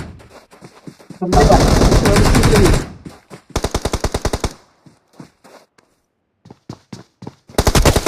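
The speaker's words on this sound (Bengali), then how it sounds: "আরে দুটো এনিমি ডবল ফায়ার হয়ে গেছে" Loud automatic gunfire from enemies in the mobile shooter BGMI rattles in long rapid bursts, separated by short gaps and scattered single shots.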